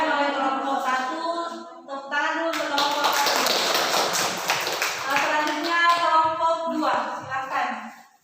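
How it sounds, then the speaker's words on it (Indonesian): A classroom applauds a student group after their presentation, clapping rising in a brief burst mid-clip while voices talk over it before and after. "Tepuk tangan dulu untuk kelompok 1."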